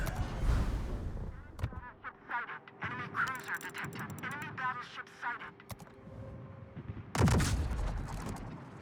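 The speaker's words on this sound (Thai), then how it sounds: "โหเสียงปืนก็เอฟเฟกจากสตาร์เทคเลยเนี่ย" Sharp synthetic gunfire blasts from the video game World of Warships burst out among warbling electronic chirps and beeps, loud and close, with a heavy final volley near the end.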